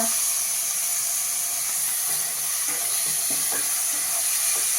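Chopped onion and tomatoes sautéing in a pan over medium flame for a capsicum gravy, a steady loud sizzle and hiss with scattered soft scrapes and stirring clicks, close and without talk.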